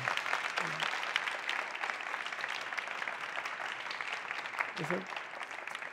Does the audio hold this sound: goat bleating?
no